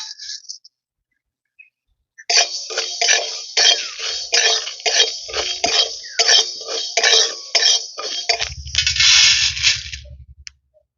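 Whole fennel, coriander, fenugreek, black mustard seeds and a dried red chilli dry-roasting in a kadai: dense rattling, crackling and scraping of seeds against the metal, with short pauses and a spoon stirring near the end.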